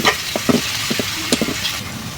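Onions and green chillies frying in cooking oil in a pot for a bottle gourd and prawn curry, a steady close sizzle with scattered louder stirring scrapes and pops, no talk.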